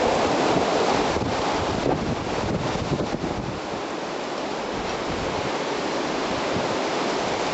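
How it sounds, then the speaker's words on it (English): Powerful storm wind gusts roar and buffet the microphone, loudest early on and then easing into a steady heavy rush. "There goes a good gust."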